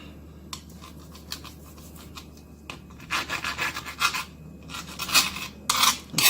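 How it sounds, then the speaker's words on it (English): Serrated knife sawing through the edges of mini tortilla wraps, soft scratchy cutting strokes close by, sparse at first and then in denser back-and-forth bursts. "we're going to take our serrated knife and we're going to cut the edges off"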